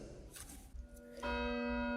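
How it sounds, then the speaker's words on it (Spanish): A great church bell rings out in a dark story setting: a single resonant strike lands partway through and hangs as a sustained, humming tone after a murky lead-in. "La gran campana de la iglesia resonó nuevamente."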